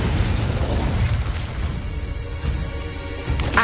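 A Confringo spell explosion in Hogwarts Legacy on PS5, a loud sustained fiery blast with crackling debris that fades, then a short sharp burst near the end.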